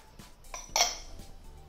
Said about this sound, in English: Just continue stirring it as it thickens.